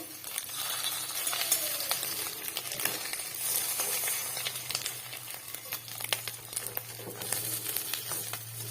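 Steady crackling sizzle of fish roe frying in a little oil over low gas, with soft scraping stirs and occasional sharp pops, close and continuous.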